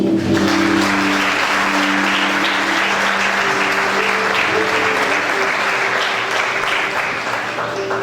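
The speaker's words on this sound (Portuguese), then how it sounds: "Pode aplaudir Jesus?" A Pentecostal church congregation in Ribeirão Pires breaks into loud, sustained applause, a dense wash of many hands clapping steadily for several seconds with a faint sung or spoken tone underneath.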